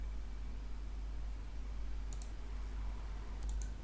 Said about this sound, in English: Then click on Save.